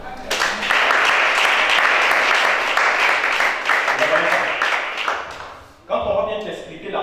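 A church congregation at a worship service breaks into loud, sustained applause, with many hands clapping densely for several seconds before it fades and a voice speaks.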